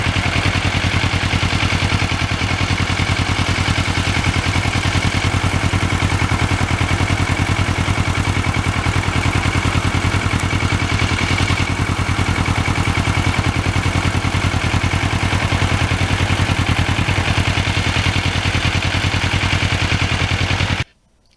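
Kawasaki Ninja motorcycle engine running steadily throughout a ride in cold weather, a loud continuous buzzing drone with dense wind noise that cuts off abruptly at the end.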